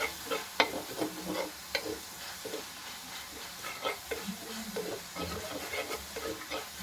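Sliced onions frying in a pan for a Kerala prawn fry, a steady close hiss and sizzle with occasional stirring scrapes and clicks, no talking.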